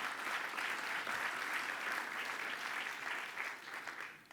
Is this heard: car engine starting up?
no